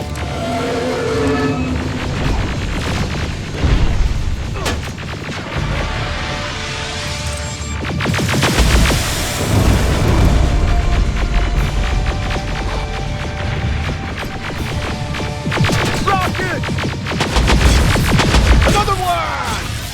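In the video game Terminator Resistance, rocket explosions go off as loud, low booms that swell and fade over a constant heavy rumble. Several blasts come in waves, with faint voices in the background.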